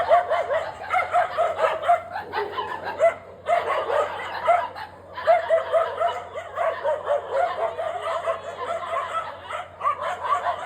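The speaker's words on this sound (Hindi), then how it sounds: "पूरा एक साथ में झुंड बना के खड़े हो गए हैं सारे। करीब 8 से 10 डॉगी हैं, छोटे बड़े अलग अलग हैं।" A pack of about eight to ten dogs of mixed sizes barks and yips together late at night, a dense, continuous chorus of overlapping barks with brief lulls, loud and fairly close throughout.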